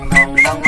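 A person whistling three short, bright, evenly spaced notes, close and clear with no talk over them.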